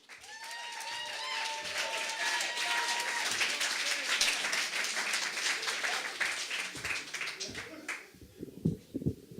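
Audience applause and cheering at a Friday night beer poetry slam, a dense sustained wash of clapping from a crowd that thins and breaks into scattered claps near the end.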